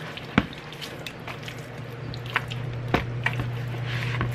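Chicken being tossed and coated in a tequila lime marinade with seasonings, giving soft wet squishing and occasional light taps against a pan, close and fairly quiet under a low steady hum.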